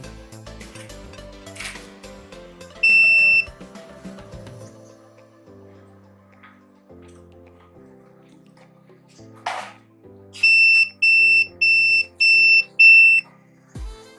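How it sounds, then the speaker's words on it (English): A sanitary pad vending machine gives a short tone while its green button is held, then repeats sharp electronic beeps in a quick, regular series near the end, with faint mechanical clicks in between. "I have to hold the green button for more than seconds until I hear a continuous beep."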